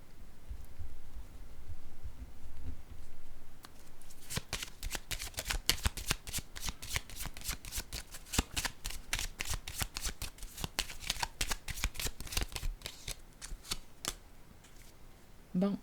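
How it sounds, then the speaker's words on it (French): A deck of playing cards is handled, then riffle-shuffled over and over in quick crisp bursts, close to the microphone, with a few softer handling sounds before and after. "Là, je vais déposer une carte ici."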